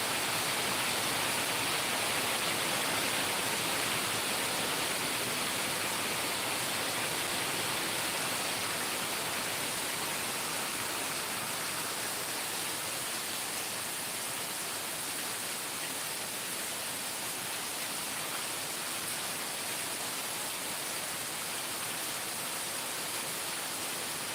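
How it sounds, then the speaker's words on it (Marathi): Heavy monsoon rain pours at Amboli in the Konkan region, a dense, continuous hiss that is loud and even throughout, with no voices over it. "आता कमी झाला पाऊस थोडा आहे बघा"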